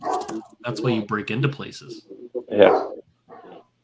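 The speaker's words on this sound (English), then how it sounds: "I apologize for my dog." A dog barks several times, close, overlapping and interrupting people talking nearby.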